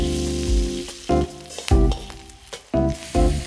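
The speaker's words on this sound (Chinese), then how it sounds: "加虾米翻炒" Dried shrimp and shiitake mushrooms stir-fry in a little oil in a wok, with sizzling broken by clattering spatula scrapes and tosses in a quick irregular rhythm, close and fairly loud.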